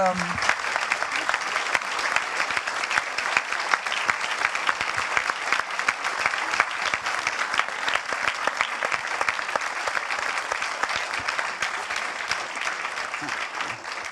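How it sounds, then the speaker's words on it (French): Sustained applause from an audience at the end of a master-class talk, a long, even roar of many hands clapping, moderately distant and unbroken for the whole stretch. "applaudissements nourris, comme on dit dans les comptes rendus de l'Assemblée nationale"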